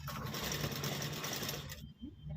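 Sewing machine running a continuous line of stitching along a saree fall, a close, dense whirring that stops abruptly near the end, followed by faint room noise.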